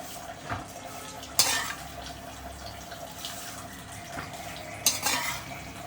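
Moringa and curry leaves slowly roasting and being stirred in a pan over low heat; soft scraping and occasional sharper clinks of the spatula against the pan, with two louder metallic knocks, fairly quiet overall.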